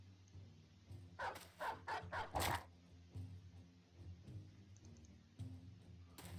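A war dog in the fantasy battle game Battle Brothers barks in a quick burst of four or five sharp barks, then quieter game noise follows.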